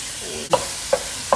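Holy basil pad kaphrao being stir-fried in a pan, with three quick scraping stirs spaced about half a second apart over a faint, steady sizzle.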